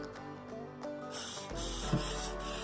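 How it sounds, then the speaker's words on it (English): A few mechanical clicks, then a steady hiss of an olive oil aerosol spray misting jalapeño poppers for the air fryer that continues to the end, close and moderately quiet. "now I'm just going to spray the tops with some olive oil spray"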